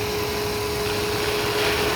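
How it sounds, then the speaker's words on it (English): Shop vacuum running steadily during knife grinding on a Damascus integral hunting knife, a constant loud broadband whoosh with a faint steady whine, no speech. "Forgot to turn the vacuum back on."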